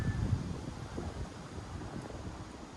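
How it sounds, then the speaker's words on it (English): Steady outdoor wind rushing and buffeting a microphone, a continuous low rumble with faint rustling, no voices. "it gets windy around here"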